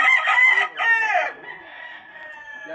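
Young roosters crowing on a breeding farm, one bird letting out two loud, close crows, followed by a fainter drawn-out call.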